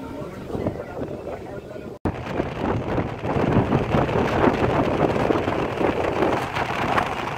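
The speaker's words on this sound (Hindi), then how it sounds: "फाइनली थोड़ी स्पीड गेन करी है ट्रेन ने" Passenger train 14801 Jodhpur–Indore gathering speed between the Aravalli hills near Pali Marwar in rain and strong wind, a steady broadband rush of wheels and wind noise that swells after a brief dropout.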